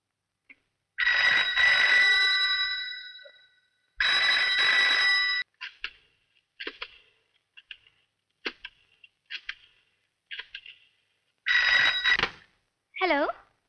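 A telephone rings in long repeated bursts, loud and close, with brief clicks and a short voice between rings.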